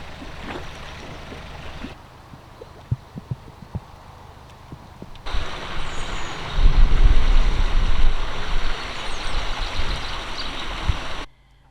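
Water flowing at Tring Reservoir with the water level running high: a steady rushing wash that swells louder and fuller midway through, then cuts off abruptly near the end.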